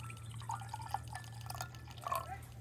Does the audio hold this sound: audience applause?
no